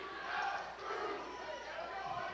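A home basketball crowd in Lebanon reacts in a gym, a sustained, dense roar of many voices with cheering and shouting that swells and dips slightly, steady throughout without a single clear voice above it.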